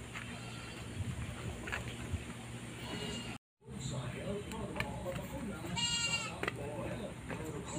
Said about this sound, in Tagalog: Ayan, umiiyak yung kambing.